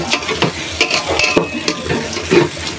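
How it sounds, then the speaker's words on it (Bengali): Rice sizzling and crackling in a hot pan while being stirred, a steady close frying hiss with occasional scraping clicks. "চালটা ভাজা হয়ে গেছে"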